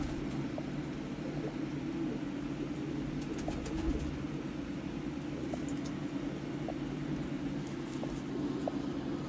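Sialkoti pigeons coo softly in a steady low murmur, with faint scattered chirps and a constant background hum throughout.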